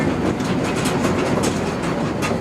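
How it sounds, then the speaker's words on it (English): A slow little sightseeing train rolls through flower fields, its rumble close and steady with rhythmic clickety-clack wheel beats and light rattling, with no voices. "now we're on a little train in the middle of the sea of flowers"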